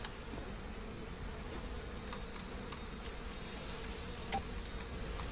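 Bees in the Trine 2 video game buzz in a continuous, faint droning hum over a low ambient background, with no talking.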